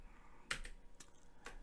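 Keys on a computer keyboard are pressed while editing in InDesign, three soft separate clicks spaced about half a second apart, faint and close in a quiet room.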